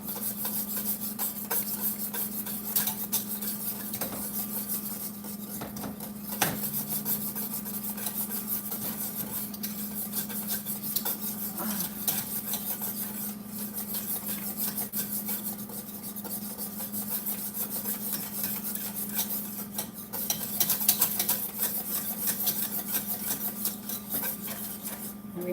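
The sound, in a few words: whisking lumps out of polenta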